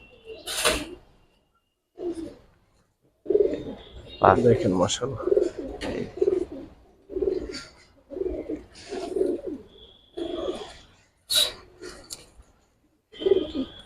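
Silver and red khaki fighter pigeons in a loft coo in short repeated bursts separated by brief gaps, close by, with a voice speaking briefly among them.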